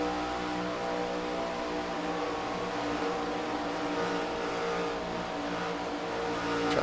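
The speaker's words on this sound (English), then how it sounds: "Hear just how much he's having to modulate that throttle." An ARCA stock car in iRacing runs at speed, its engine a steady loud drone with the throttle held and modulated, other cars' engines blending in, no voices.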